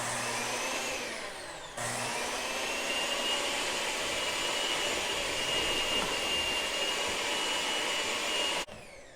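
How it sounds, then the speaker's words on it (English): An electric mixer runs on low through brownie batter with a steady, close whirring drone. It briefly dips near the start, then holds an even hum until it cuts off near the end. "Now we're just gonna mix it in on low."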